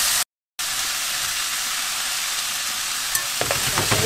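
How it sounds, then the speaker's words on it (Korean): Potatoes stir-fry in a pan for Korean omelet rice, an even hissing sizzle that cuts out briefly near the start, then a few sharp spatula scrapes and taps toward the end. "감자가 다 익을 때까지 볶아줘야 됩니다"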